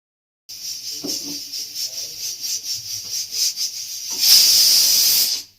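A pressure cooker boiling lentils with turmeric and salt gives off a steady hiss that swells into a loud, sustained steam whistle near the end, with faint kitchen clatter beneath.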